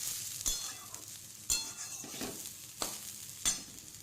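Rice fries gently with whole spices such as cardamom and cloves on low heat, a soft quiet sizzle punctuated by four or five sharp spoon clinks against the pan.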